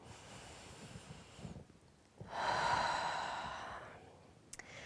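A deep, audible breath drawn in during a calm guided meditation, a soft airy inhale swelling for a couple of seconds after quiet breathy sounds, then fading.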